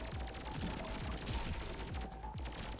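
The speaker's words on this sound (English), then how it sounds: "Just keep firing." Rapid gunfire in the action roguelite video game Pathogenic: a dense, loud stream of shots and low thuds fired continuously for about three seconds, with no voices.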